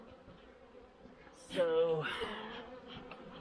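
Honeybees buzz at an opened hive in the fall, a brief loud rise of buzzing that swells close by over a lower hum of the colony, with a short spoken word.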